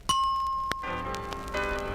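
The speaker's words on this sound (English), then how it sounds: "when you hear the chime," A bright page-turn chime for a Dukes of Hazzard storybook record rings out as one clear bell-like ding that sustains and fades, followed by another metallic strike as music begins underneath.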